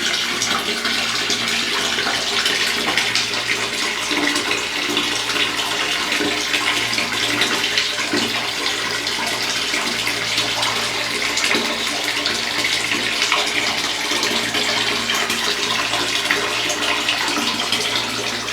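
Tap water pours steadily into a container in hot Saudi weather, a loud, close, continuous rushing splash that holds even for the whole stretch with no voices.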